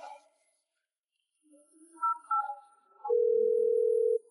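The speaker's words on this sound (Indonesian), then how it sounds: "Kalau begitu, kamu telepon San Yao." Telephone call signal: a few short electronic tones followed by one sustained steady tone lasting about a second, clear and close, with a brief voice fragment at the start.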